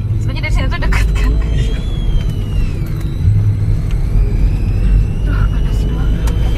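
Road traffic in a jam near Ancol gives a steady, loud, low engine rumble with passing vehicle hums, while people talk nearby throughout.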